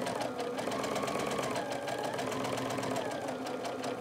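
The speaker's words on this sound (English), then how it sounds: "Very carefully sewing, making sure that the edge of the fabric is on the edge of my foot" A sewing machine stitches pieced quilt fabric, running as a steady, fast mechanical hum with rapid needle ticking, close and fairly quiet.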